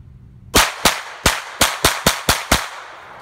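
Eight sharp gunshots fired on private land, spaced roughly a third of a second apart in a steady sequence, loud and close with brief decays and no talk.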